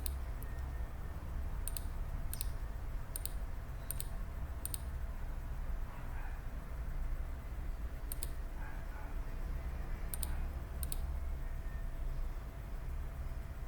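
Sharp, dry mouse clicks, some in quick pairs, spaced irregularly over a low steady hum in a quiet room.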